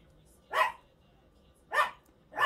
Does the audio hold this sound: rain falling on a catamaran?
no